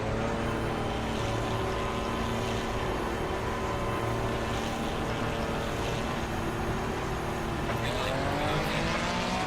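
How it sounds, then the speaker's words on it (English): Ferrari GT race cars launching off the line side by side in Assetto Corsa Competizione, engines held at a high, steady roar before rising in pitch together near the end, loud and continuous with no talking. "Ferrari versus Ferrari off the line."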